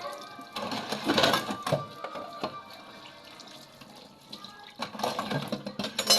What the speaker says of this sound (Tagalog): Anlawan ng mabuti sa mahinang tubig lamang.